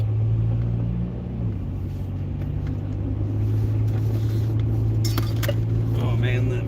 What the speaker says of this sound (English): that fucking axle doesn't sound great at all.